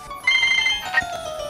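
A mobile phone rings with a bright, repeating electronic ringtone melody, fairly close and clear over a quiet room background.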